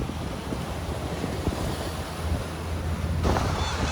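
Strong wind gusts across a microphone by the sea in Havana, a constant roaring rush with low buffeting rumble and surf-like wash, swelling louder near the end.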